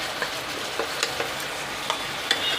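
A spicy bitter gourd curry is stirred as it fries in a pan. Continuous close sizzling is punctuated by several sharp spatula scrapes and taps at an uneven pace, and nobody talks.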